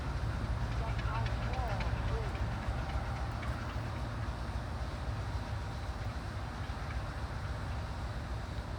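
A long grain freight train rolls past, giving a steady, dense rumble of railcars that holds constant throughout, close and fairly loud, with a faint squeal early on.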